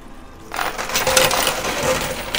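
Quarters cascade and clatter nonstop in a high-limit coin pusher, a dense metallic rattle that starts abruptly after a brief quiet lead-in and keeps going close and loud.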